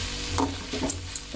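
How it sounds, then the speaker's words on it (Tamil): Drumstick leaves tossed with onion and tomato in a hot pan give off a steady close sizzle, with brief scraping stirs breaking through the frying hiss. "இப்போ இந்த கீரையை போட்டு லைட்டாக வதக்கிங்க."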